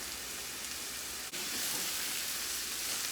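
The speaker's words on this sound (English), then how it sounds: "I'm going to let this cook for 5 minutes until the vegetables become translucent" Corn, black beans and chopped vegetables seasoned with salt and dry cilantro sizzle steadily in a pan, a constant close frying hiss with one brief dip partway through.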